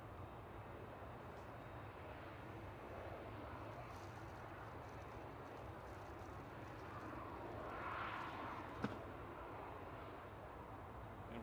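An Airbus A380 taxiing at Manchester Airport, a faint, distant, steady engine rumble and whine that swells slightly midway, with a sharp click near the end.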